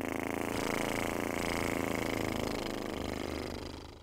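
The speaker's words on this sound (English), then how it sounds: "we're going to exhale with a buzzing sound like this" Buzzing exhale done as a vocal warm-up for theatre, a steady, loud, continuous lip-and-voice buzz sustained for about four seconds, tapering off at the very end with no talking over it.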